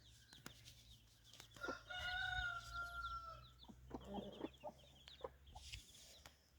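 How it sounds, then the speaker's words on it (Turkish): Chickens cluck softly nearby while a rooster lets out a crow, with scattered short bird calls around it. "Bunlar da arkadaşlar iki gri tavuğun yavruları."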